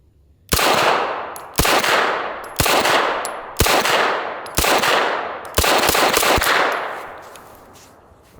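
A roller delayed blowback 9mm submachine gun fires short sharp reports, six to seven loud close cracks with ringing echoes spaced about a second apart, the last two in quick succession, each decaying into reverberation outdoors.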